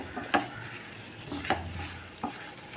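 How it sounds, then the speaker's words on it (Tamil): Fried prawns sizzle in ghee in a pan, a steady frying hiss broken by three scraping stirs of a spoon at roughly one-second intervals. "இதில் நம்ம ப்ரான் வறுத்ததை இதில் போட்டுருவோம்"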